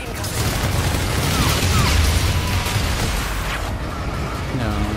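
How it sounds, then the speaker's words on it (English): Friendly bombardment explosions in Call of Duty: Infinite Warfare, Hardpoint mode, a dense continuous barrage of booms and gunfire rumbling loudly throughout while a voice talks over it. "Friendly bombardment"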